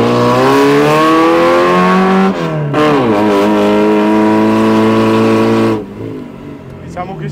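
A loud modified Suzuki Samurai engine of over 300 hp revving hard close by, its open exhaust roaring and rising in pitch, easing off briefly, then revving again before dropping to a low idle.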